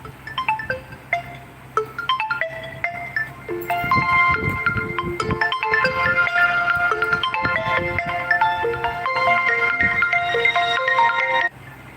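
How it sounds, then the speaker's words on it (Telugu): A mobile phone plays a melodic ringtone, with a few sparse tones first and then a fuller, louder looping tune that goes on for several seconds before it cuts off, with faint background noise underneath. "అమ్మమ్మ ఫోన్ నాన్న అమ్మమ్మ ఫోన్ అమ్మమ్మ ఫోన్ నీకు కూడా వస్తుంది ఫోన్ ఎవరు"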